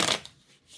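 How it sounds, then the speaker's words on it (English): Tarot cards being shuffled, a short papery riffle burst at the start that quickly fades to quiet. "Shuffle one more time."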